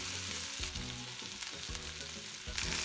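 Miso-marinated chicken skin sizzles and crackles steadily in a hot pan, a loud continuous frying hiss with bursts of spitting throughout.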